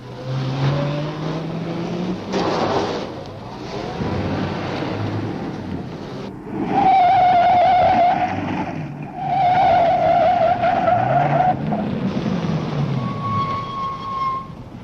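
Car engines roar and whine in surging bursts with rushing, wind-like noise, as vehicles drive fast in a car chase in a 1939 movie serial.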